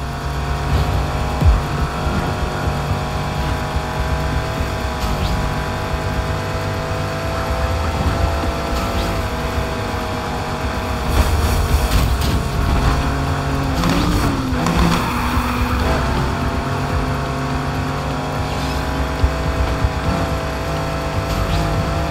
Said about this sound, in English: Troublemaker's driving an Aston Martin DB11.